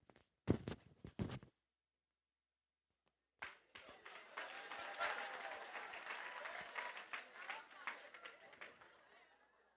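A stand-up comedy audience breaking into applause as a comedian is introduced: a few isolated claps, a short silence, then sustained clapping with cheering and crowd chatter.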